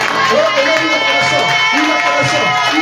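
A church congregation cheers and acclaims the Lord in a dense, loud roar of overlapping voices, whoops and some clapping, steady throughout and close.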